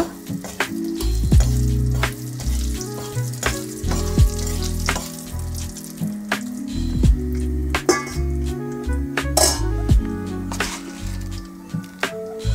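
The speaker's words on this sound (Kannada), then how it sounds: "ಹಿಂಗು ಎಣ್ಣೆಯಲ್ಲೇ ಹಾಕಬೇಕು, ಫ್ರೈ ಮಾಡುವಾಗಲೇ ಹಾಕಬೇಕು" Asafoetida frying in hot oil for an okra palya, a continuous close sizzle with occasional stirring scrapes and clinks of a utensil against the pan.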